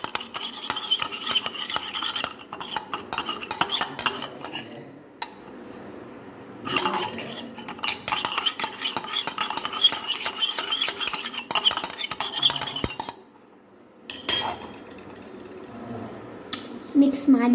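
A spoon scrapes and rasps against a glass or bowl as two spoons of sugar are stirred into lemon juice, close up, in bursts with brief pauses, with a voice briefly heard.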